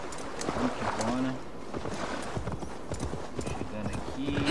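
A horse gallops in the game Assassin's Creed Valhalla, with rapid rhythmic hoofbeats running throughout under someone talking in Portuguese.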